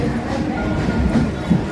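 A train rumbles along with a steady low roar and faint rhythmic rattling, heard continuously from inside or close by.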